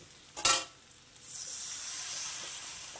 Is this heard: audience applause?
no